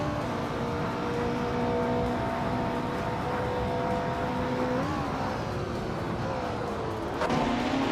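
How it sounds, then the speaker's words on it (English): A 1970 Abarth 1600 TCR racing car engine hums steadily at a distance, its pitch holding level before shifting briefly as it changes speed, with no voices. "Zero Timilayev is driving a 1970 Abarth 1600 TCR"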